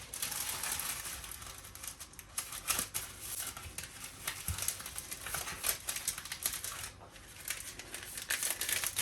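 Parchment paper is folded by hand for lining a baking pan. It gives quiet, irregular crinkles and soft crackles, close by, with short bursts of rustling and no voices.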